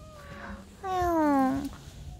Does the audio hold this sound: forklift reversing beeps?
no